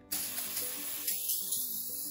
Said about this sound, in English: We got a cookie sheet. Just gonna spray it.